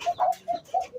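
A pigeon coos close by in a series of soft, low, rounded calls, four or five short coos separated by brief pauses, with no one talking.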